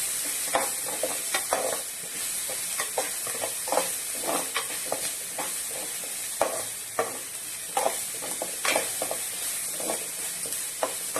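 Turmeric and asafoetida being stirred into hot oil in a pan while making pori upma, with a steady sizzle and frequent scraping strokes of the spoon spread through the clip, close and alone.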